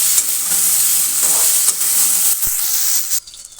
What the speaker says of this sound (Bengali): এই যে প্রথমে একটু পাঁচফোড়ন দিয়ে কাঁচা লঙ্কা দিয়ে আলুটা একটু ভাজা ভাজা করে নিচ্ছি